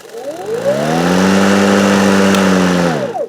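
A PowerSmart 40-volt, 17-inch battery lawn mower spins up when its lever is pulled, a loud close electric whine that rises, holds steady, then winds down at the end.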